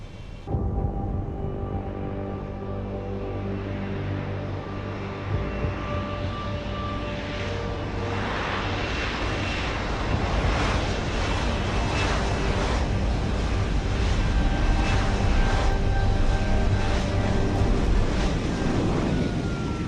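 A military jet aircraft in Deus Ex: Human Revolution roars steadily with a dense engine rumble and a faint whine, building slightly louder over about twenty seconds, with no voices.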